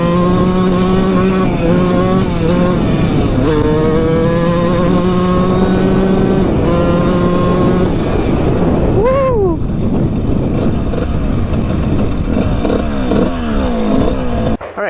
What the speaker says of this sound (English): Take her down here, full throttle here.